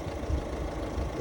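Tata Harier engine at idle, 17,000 km used, a steady low rumble with a faint knocking texture, heard close and alone with no talk.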